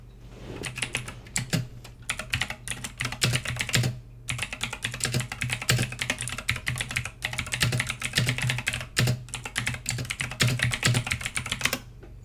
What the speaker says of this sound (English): You guys like that keyboard sound?